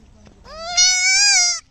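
A young goat lets out a single loud, close bleat lasting under a second, rising in pitch with a wavering tone, preceded by faint background noise.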